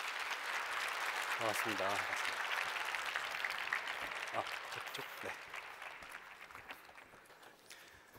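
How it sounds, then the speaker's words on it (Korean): An audience at a Korean forum event applauds warmly for a speaker, continuous clapping that gradually softens, with someone briefly speaking over it. "여러분 오늘 귀한 시간 내주신 피치스 여인택 대표님께 다시 한번 뜨거운 박수 부탁드리겠습니다"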